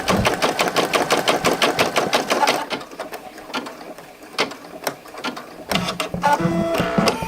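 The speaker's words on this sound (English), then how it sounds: "The machine says it has finished sewing." A Brother PE770 embroidery machine stitches the border of an appliqué patch with rapid, rhythmic mechanical ticking for a few seconds, pauses, then makes quieter clicks and whirs as it finishes, close and loud with no talking.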